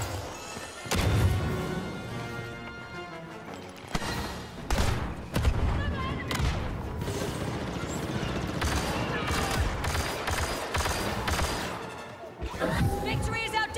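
Grenade blasts and bursts of blaster gunfire fill a battle in the Star Wars Battlefront II video game, with loud booms, crashes and rapid volleys in heavy waves and brief lulls, and voices speak over the combat.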